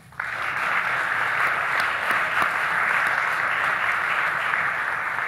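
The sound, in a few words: audience applause for debate candidates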